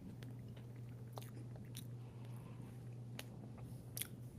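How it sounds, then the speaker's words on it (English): A person chews food close to the microphone, producing a few faint crunchy bites and soft mouth sounds spread over a quiet, humming background. "sorry, I'm chewing."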